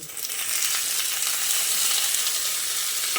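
Steady, bright sizzling of eggplant frying in a pan with chopped tomato and capsicum, a continuous crackle with light stirring, close and fairly loud, no voices.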